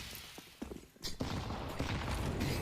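Rapid automatic gunfire from the video game CS:GO comes in several quick sprays, fairly quiet within a busy match mix of other game sounds.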